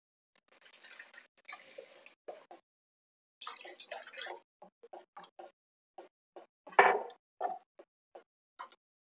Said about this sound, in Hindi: इसमें हम ग्रेवी के लिए पानी डालेंगे।